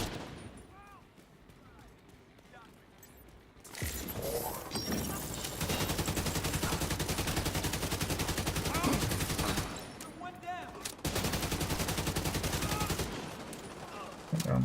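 Sustained automatic gunfire in The Division video game, with long dense bursts of rapid shots and brief pauses between them. A player talks faintly during a quieter opening.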